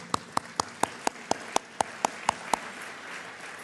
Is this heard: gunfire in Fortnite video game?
no